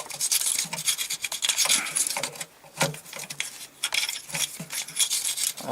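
An old hand file rasps back and forth in a corroded starter dowel pin hole on a 2006 Ford Taurus 3.0 engine, giving quick, close scraping strokes in uneven bursts with brief pauses.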